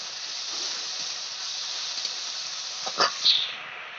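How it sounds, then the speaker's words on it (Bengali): Water hits a hot pan of frying spice paste for a fish curry, giving a loud, sustained steam hiss close by with a couple of sharper sputters near the end. "একটু ভালো করে কষিয়ে নেব মশলা যেন ভালো জন্য কষানো হয় তার জন্য একটু জল দিয়ে দিলাম"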